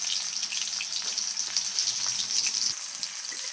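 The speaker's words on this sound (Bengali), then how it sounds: "পেঁয়াজটা ভেজে নেব একটু" Onions frying in oil in a wok-like kadai for a tangra fish curry with tomato and potato, giving a steady, close, even sizzle with light crackles and no talking.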